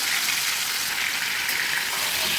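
Boiled pointed gourd hitting hot oil with whole cumin, a dense, steady sizzle of frying that stays loud and even from start to finish, with no voices.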